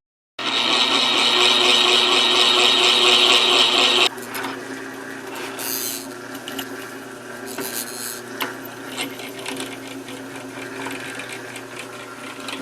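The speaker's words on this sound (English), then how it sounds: "Drill my hole and tap it in this drill press." A drill press whines steadily and loudly for several seconds, then drops to a lower grinding hum as the bit drills a hole through a metal part for a Cub Cadet 1650 tractor, with scattered scrapes.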